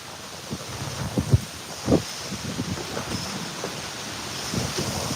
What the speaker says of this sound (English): But the wind is really strong.